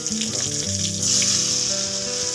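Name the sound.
pointed gourd (potol) frying in hot oil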